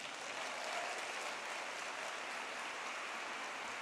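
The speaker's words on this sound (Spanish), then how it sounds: "Dele un aplauso al Señor." A church congregation applauds steadily, a dense, even wash of clapping that sounds like rain and holds at constant level throughout without pause.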